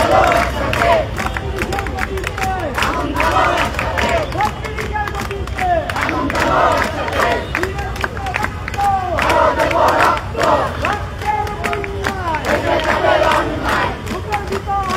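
Student protesters demonstrate in the street outside the education building, a large, loud crowd chanting and shouting in rhythmic surges, with clapping and dense babble throughout.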